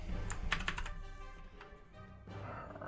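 Quiet typing on a Mac-format computer keyboard, bursts of rapid key clicks separated by short pauses, close and soft in a calm room.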